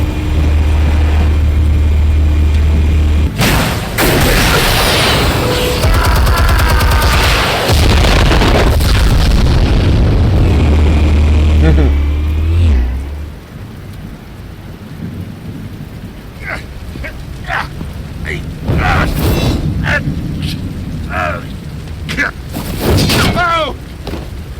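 Huge explosive detonations in Batman: The Telltale Series, loud deep rumbling booms filling the first half, then fading into quieter debris, crackles and scattered impacts, with voices over the action.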